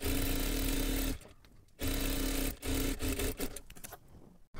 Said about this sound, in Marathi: इथून आपल्याला शिलाई करायला सुरुवात करायची आहे.